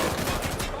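Sustained rapid gunfire rattles loudly in a shooter video game, a dense burst of overlapping shots.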